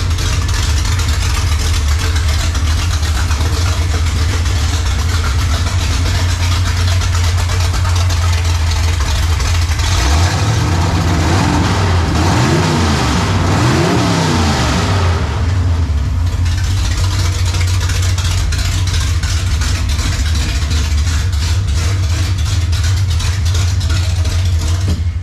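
A 1955 Chevy engine with a choppy cam idles loud and close with a lumpy, uneven rumble, then revs up and falls back mid-way before settling into idle again.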